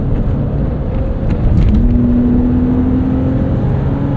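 A 2025 Ram RHO truck engine pulling hard under throttle through a corner, a loud, steady interior drone that rises in pitch as it accelerates, with no talking.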